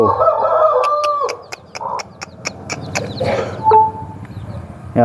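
A hen clucks close by while her newly hatched chicks cheep in short, repeated peeps, with a brief louder squawk near the end.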